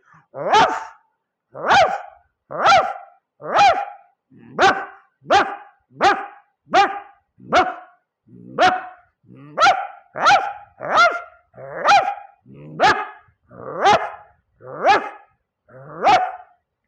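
A man vocally imitates chained Alsatian and bulldog dogs barking from inside a house, a close, loud series of about eighteen gruff barks at a steady, slightly uneven pace, some with a growling edge.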